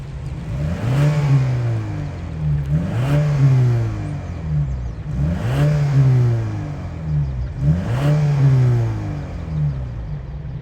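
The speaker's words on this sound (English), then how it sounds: "We got dual exhaust. Let's see how it sounds." A 2023 Lincoln Corsair AWD SUV with dual exhaust revs four times in steady succession, each throttle blip rising in pitch and falling back to a deep exhaust rumble.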